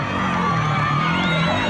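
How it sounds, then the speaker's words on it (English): A large crowd roars and cheers loudly and steadily at a 2007 desert race, a dense wall of shouting and whooping voices with a low engine drone beneath. "the crowd just goes even wilder"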